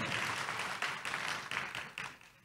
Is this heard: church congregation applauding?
yes